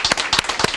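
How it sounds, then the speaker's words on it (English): Brief burst of crowd applause for the Lieutenant Governor during a House of Ruth tour, dense clapping from many hands, close and fairly loud. "If we can give him another round of applause"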